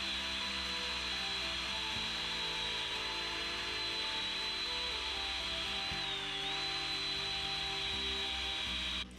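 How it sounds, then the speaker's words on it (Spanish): A hand drill whirs continuously at a high pitch, grinding steadily into a tobacco pipe, close and loud, with slight shifts in tone as pressure changes. "Le damos otra vez un poquito con el taladro."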